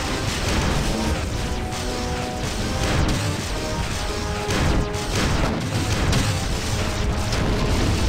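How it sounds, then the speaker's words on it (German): Loud continuous barrage of heavy weapon fire and crashing impacts in a space combat video game, Wing Commander Secret Ops, dense and unbroken, with booming rumbles throughout. "Schweres Geschützfeuer!"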